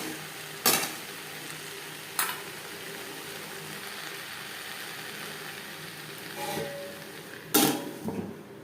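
Soft steady sizzle of pointed gourd frying in a pan, broken by a few scraping stirs and sharp utensil clatters against the metal.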